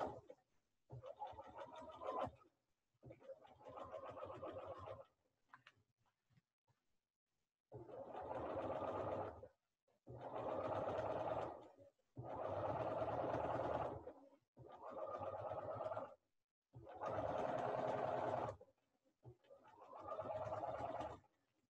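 A sewing machine stitching through quilted fabric layers in bursts of steady whirring with short pauses between runs, close by and fairly quiet, with no talk.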